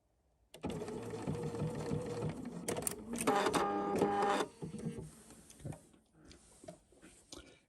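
A sewing machine stitches along a welt pocket, its running buzz in bursts with brief pauses and small clacks of the fabric being handled, close and fairly loud.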